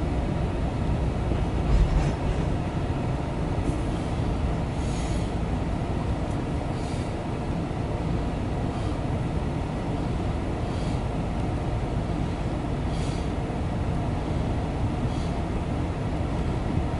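A loaded CSX freight train of brand-new cars carrying stone rolls past steadily, a continuous heavy rumble of wheels and cars with faint squeals, sustained and close throughout.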